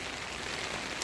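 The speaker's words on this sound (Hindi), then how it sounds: "वो ज़ोरदार बारिश शुरू हो गई है जी" Heavy rain pours down outdoors in Islamabad, a dense, loud, continuous hiss of drops striking surfaces with no voices.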